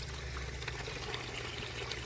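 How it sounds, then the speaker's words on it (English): Dirty water gushes steadily out of a pond filter as the pump pushes it through, a continuous close pouring and splashing with no pauses and no talk. "There's all that dirty water coming out of the filtration system."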